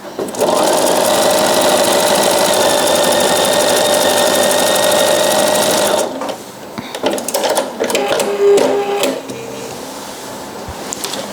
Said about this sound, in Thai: พอเราเย็บ 3 คู่ติดกันแล้วนะคะ